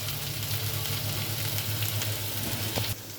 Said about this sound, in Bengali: সেই সাথে আমি শুটকিগুলোও দিয়ে দিচ্ছি,